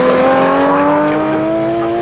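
A race car roars past on the Snetterton circuit during a classic car race, its loud engine tone sliding steadily downward as it passes close by, with no talk over it.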